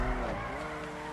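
A Grotti Stinger drifting in GTA 5, a steady engine drone with a sliding tire tone held for about a second, close and fairly loud.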